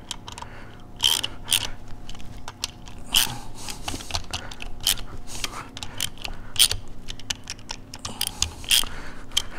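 Case bolts on a 2004-or-later Harley-Davidson Sportster bottom end being snugged by hand in a workshop, with close, irregular metallic clicks and taps of bolts and tools over a low background hum, no speech.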